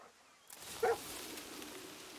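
A dog in the video game Far Cry 6 lets out a single short bark or yip near the start, followed by steady game ambience.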